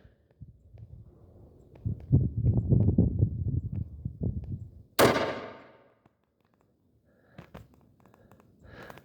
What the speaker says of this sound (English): Let's fire off another one, see where it hits